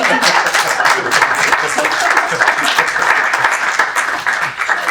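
A conference audience claps in a dense, loud, continuous burst of applause, with a faint voice mixed under it toward the end.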